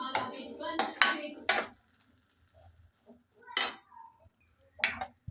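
Marinated mushrooms for a mushroom gravy go into a pan and a spoon stirs them, giving a few separated metallic clinks and scrapes against the pan with quiet gaps between.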